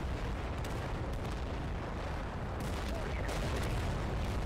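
ASU-85 self-propelled guns fire in the Total Conflict Resistance war game, a dense, continuous roar of booming blasts and rumble with overlapping impacts throughout, loud and sustained.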